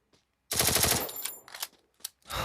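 Rapid bursts of M7 rifle fire in a first-person shooter game, a loud dense volley followed by a few shorter separate shots, with no voices.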